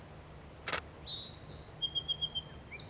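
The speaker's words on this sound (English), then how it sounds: "you can hear that song sparrow singing" A song sparrow sings at an inlet in the morning: a few thin, high whistled phrases and a brief trill, moderately close and alone. A single sharp click cuts in early on.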